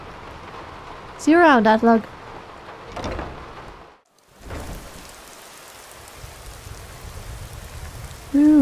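Steady rain hisses throughout a snowy-to-stormy outdoor scene in the video game Skyrim, a continuous wash of downpour with no distinct thunderclap standing out, while someone speaks briefly over it.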